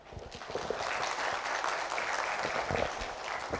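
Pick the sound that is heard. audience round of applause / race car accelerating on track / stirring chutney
audience round of applause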